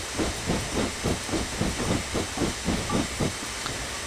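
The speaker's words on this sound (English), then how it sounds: "It kind of blows air or something like that through the boiler to make sure that the boiler is working the way that it should." A steam locomotive's boiler blower hisses steadily in the Railworks 3 train simulator, with a rhythmic chuffing pulse repeating about twice a second beneath the constant hiss.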